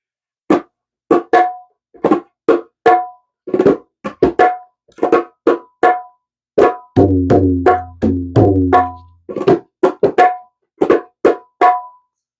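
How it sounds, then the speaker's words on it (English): Hand drum played in a dhrupad tala cycle, a steady run of sharp strokes with a stretch of deeper, ringing bass strokes in the middle, close and clear with no voices. "So on a drum, that's going to sound like this."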